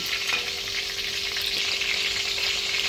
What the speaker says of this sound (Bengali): দেখুন বন্ধুরা আমার চিকেনটা ভাজা হয়ে গেছে সুন্দর করে